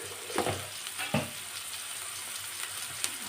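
Brinjal pieces sizzle in a hot pan with salt as they are stirred, the spoon scraping in a few brief bursts over a steady low frying hiss, close and fairly quiet, with no talk.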